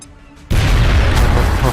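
A grenade blast in XCOM Long War erupts after a brief quiet moment, a loud, sudden boom that sustains as a dense, rumbling roar to the end.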